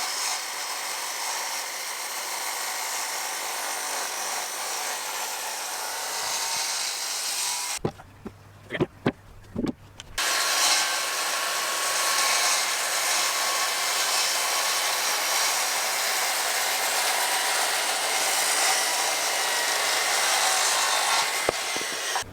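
An oak timber beam being cut for a half lap in a timber frame, heard as a sustained, loud, rasping cut that breaks for about two seconds of a few knocks and handling sounds before the steady cutting resumes. No voices are heard.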